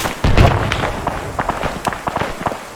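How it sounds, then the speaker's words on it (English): A grenade goes off in the Arma 3 military game with a single loud thump, followed by scattered sharp cracks and pops of distant gunfire. "So let's give him a grenade."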